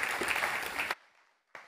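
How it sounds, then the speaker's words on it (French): A short, steady burst of applause as an audience welcomes Thomas, a speaker at a marketing conference, cutting off abruptly and followed by a brief second flare of clapping. "on l'applaudit"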